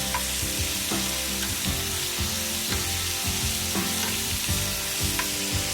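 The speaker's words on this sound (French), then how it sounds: "Ça va permettre à notre viande de bien finir la cuisson." Crow meat frying in a hot pan, a steady loud sizzle with crackling pops and occasional stirring scrapes throughout, with no voices.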